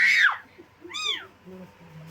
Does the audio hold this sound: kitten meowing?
yes